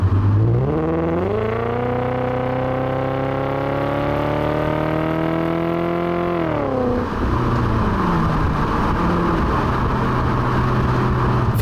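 A Volkswagen Passat W8 on the move: the engine pulls up through the revs in a rising, smooth multi-cylinder drone, then drops off sharply as it shifts, settling into a lower, rougher hum with road noise. It is close and loud.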